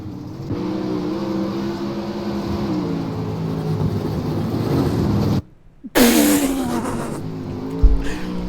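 A dirt late model race car in the iRacing sim roars at full throttle around Port Royal, a steady loud engine drone that cuts out for half a second, then surges back with a sharp revving burst and brief tire noise.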